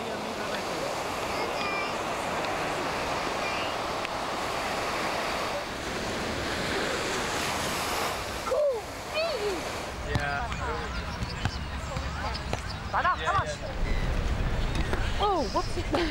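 Surf and ocean waves along the Cape Town coast near white sandy beaches, a steady broadband wash with wind noise buffeting the microphone, continuous throughout, with a short voice heard near the end.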